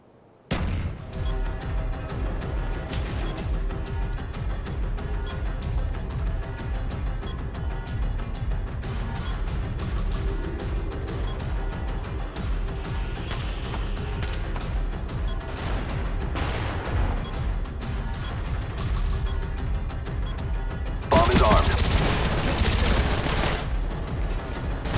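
Loud, continuous burst of video game gunfire and combat noise runs throughout, capped near the end by a heavy, bright frag grenade explosion during a bomb-defusal round.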